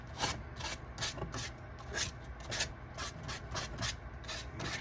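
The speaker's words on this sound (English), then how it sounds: "The sandpaper is good, man." Sandpaper rubbed by hand in quick back-and-forth strokes, a close, moderately loud raspy scratching with an uneven rhythm of about two to three strokes per second, alone without speech.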